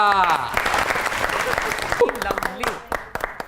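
Studio audience applause on a comedy talk show as a singer is introduced, loud and close, mixed with a host's voice talking over the clapping.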